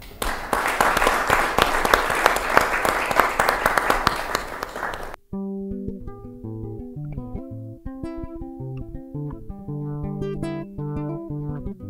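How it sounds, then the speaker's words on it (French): A studio audience on a television show applauds with dense, steady clapping for about five seconds. The applause cuts off abruptly and music follows. "On peut l'accueillir une fois de plus par des applaudissements."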